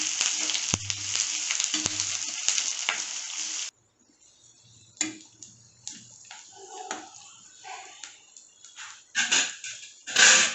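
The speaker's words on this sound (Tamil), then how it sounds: "சேர்த்து நல்லா பொன்னிறமாக ஆறப்பட்டிக்கு வெங்காயத்தை வதக்கிக்கலாம்" Onions sauté in oil with curry leaves for a chicken gravy. A bright, dense sizzle runs for a few seconds, then cuts away to quieter stirring scrapes and soft, intermittent crackling.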